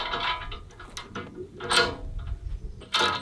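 Metal clinks and ratcheting clicks from three-quarter-inch wrenches tightening bolts while assembling a steel AR500 target stand outdoors, coming in short irregular bursts with gaps between them, fairly close and moderately loud.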